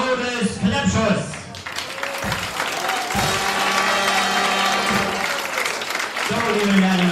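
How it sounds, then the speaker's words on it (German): An audience at a cultural event in Schwerin applauds the master of ceremonies with sustained, dense clapping that fills the hall, while a voice speaks over it. "Euer Beifall für unseren Zeremonienmeister"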